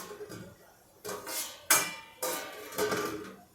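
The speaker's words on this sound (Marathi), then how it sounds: "आता मी हे ताट याच्यावर ठेवते" A metal plate is set down on top of a pot of steaming water while cooking surali vadi, making several light clinks and clatters of metal on metal close by.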